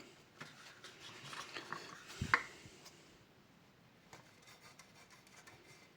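Primer on a Subaru car body is sanded by hand with fine abrasive, giving soft, irregular rubbing strokes with a brief louder scuff near the middle, close but quiet, with no voices.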